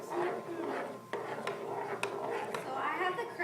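A spoon scrapes and clinks against a bowl while chocolate mixture is stirred together with cake batter, giving steady rubbing strokes with a few sharp taps, close and moderately loud.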